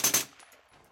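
A single suppressed report from a DPMS 16-inch A4 rifle fitted with an HVT suppressor at an outdoor range, a sharp close crack with a quick double-peaked onset that fades into a short tail.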